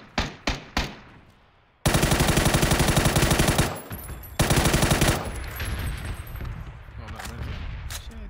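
Loud automatic gunfire from PUBG: a few sharp single shots, then long sustained bursts of rapid fire with a short pause between them, close and dominant, with players talking faintly.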